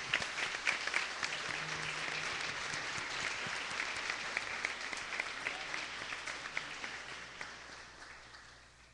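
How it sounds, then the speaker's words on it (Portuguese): A church congregation claps together during a worship service, a wash of applause that is loudest at the start and gradually thins and fades. "Quantos podem aplaudir a Jesus pelo sacrifício dele?"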